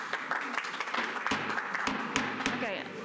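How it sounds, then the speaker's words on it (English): A meeting audience at a planning commission session gives brief scattered applause, with claps and taps mixed in under people talking. "Let's not do the applause after every person."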